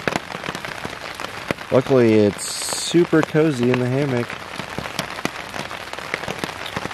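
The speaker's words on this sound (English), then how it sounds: "You can hear this lovely pitter-patter on the Dyneema." Rain patters steadily on a Dyneema hammock tarp during a wet winter night in Wayne National Forest, a dense, close tapping of drops that continues under a person speaking.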